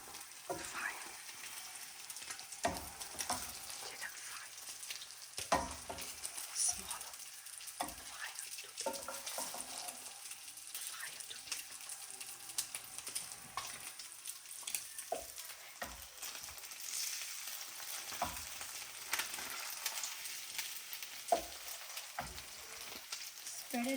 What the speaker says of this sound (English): now you gotta stir it with our wood thing